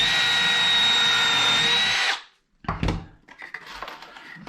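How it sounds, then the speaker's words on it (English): A power drill bores a hole into a clamped piece of wood, a loud steady whine for about two seconds that stops abruptly, followed by a few clattering handling knocks. "Drill a hole."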